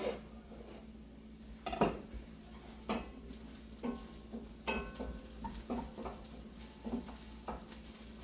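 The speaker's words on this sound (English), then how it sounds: "I don't typically stir my onions a lot, but I do want them to be cooked on all sides" Onions cooking in a pot for smoked prime rib risotto, a low steady sizzle broken by a spoon knocking and scraping against the pot every second or so, quiet and close, with no speech.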